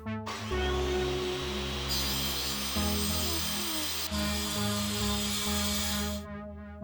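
Acrylic sheets being cut with a power tool, a loud steady whining and grinding drone that holds for several seconds before stopping abruptly.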